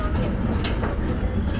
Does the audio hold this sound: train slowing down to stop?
yes